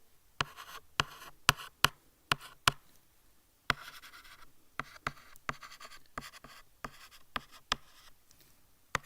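Pen scratching out a written answer on paper during a chemistry exam walkthrough, in quick bursts of sharp strokes and taps with short pauses between, close and fairly quiet.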